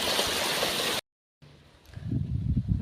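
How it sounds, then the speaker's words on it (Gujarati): A water pump motor runs with water flowing: about a second of loud, steady rushing noise, a brief silent gap, then a lower rumbling churn that grows louder. "મોટર કરી દીધી ચાલુ અને પાણી જો મીંડું છે ઢોળવા"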